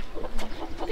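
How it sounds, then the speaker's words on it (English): Chickens clucking inside an old run-down house built into the cliffs of Setenil de las Bodegas, Spain, now used for animals; a short burst of nearby clucks over a windy background. "There's chickens in this one."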